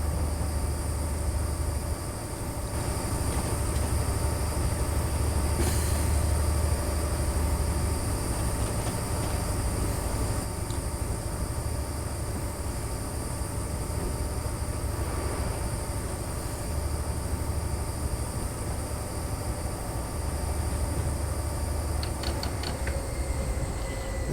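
A train in Train Sim Classic on the Edinburgh Waverley to London Kings Cross run rolls along at speed, a steady rumbling track drone with a constant high whine and faint clicks, holding evenly throughout.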